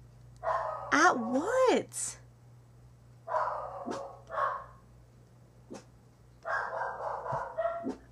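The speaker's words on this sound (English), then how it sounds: "These dogs are like howling." Several dogs bark and howl in bursts outdoors, with rising and falling howls and sharp barks spread across the stretch, loud and fairly near, while someone talks briefly between them.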